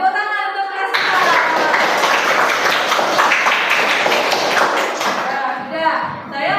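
A classroom of class 4 pupils bursts into dense clapping right after a teacher's short spoken line, the applause holding for about four seconds before fading back into voices.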